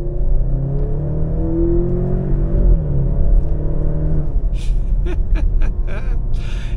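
Engine of a Maserati Grecale SUV revving, a loud deep rumble that rises and falls in pitch, with a few sharp higher bursts toward the end.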